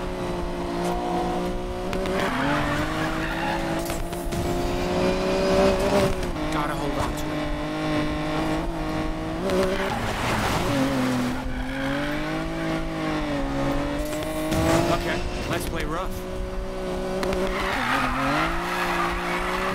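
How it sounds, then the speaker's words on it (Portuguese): A BMW race car in Need for Speed Payback, engine revving with rising and falling pitch as tires squeal and skid through corners, loud and sustained, with someone talking excitedly over it. "Essa BMW dele anda pra caramba, velho."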